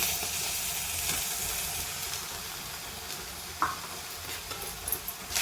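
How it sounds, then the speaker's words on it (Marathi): Okra gravy with two spoons of curd stirred in, sautéing in a pan: a steady low sizzle and hiss with a few scraping spoon strokes, one sharper knock near the middle. "आता हे सुद्धा आपण परतून घेत आहोत"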